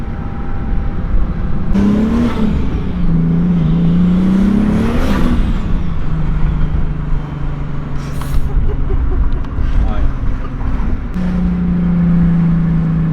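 A rebuilt 2.8 24v VR6 turbo engine in a car on its first drive, loud and close, with rising and falling revs, gear changes and whooshing turbo and blow-off sounds, with occasional voices under it.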